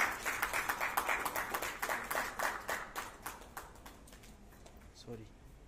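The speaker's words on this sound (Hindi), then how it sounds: "एक बार जोरदार ताली हो जाए" An audience at an awards ceremony claps steadily in rhythmic applause, loud at first and then fading toward the end, with no speech over it.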